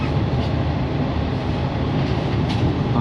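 A train pulling into a station on an eleven-hour rail journey from Ubon to Bangkok, a steady loud rumble of carriages and wheels heard from on board, with no clear individual clacks.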